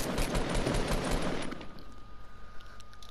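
Rapid automatic gunfire in Fortnite Battle Royale, a dense loud burst that runs for about a second and a half and then cuts off into quieter game ambience.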